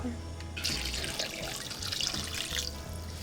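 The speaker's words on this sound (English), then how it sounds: "I'm gonna bring this to a boil and then I'm gonna add water to it also." Running water pours steadily into a cooking pot for boiling a whole tongue, a fairly loud, continuous splashing rush that starts abruptly and lasts a few seconds.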